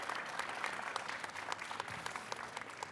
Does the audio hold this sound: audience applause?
yes